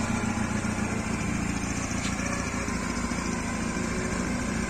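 An all-original 2011 motorcycle idles with a steady, even engine hum and hiss, continuous and unchanging throughout, with no talk over it.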